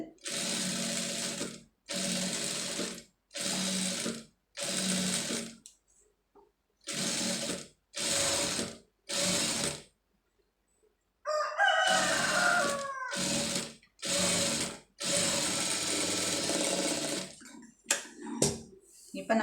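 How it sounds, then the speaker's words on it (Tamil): An electric sewing machine stitches thread piping onto a garment sleeve, running in a series of short, even whirring bursts separated by brief pauses, close and clear. "இதில் வந்து தைங்க பொறுமையாக அதில் வந்து அப்படியே தையல் ஓட்டிங்க"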